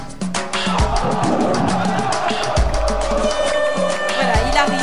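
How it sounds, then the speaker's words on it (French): Applause from the audience at an awards ceremony for African football, a continuous broad wash of clapping mixed with crowd noise and some low thumps, fairly loud throughout. "Sous vos applaudissements."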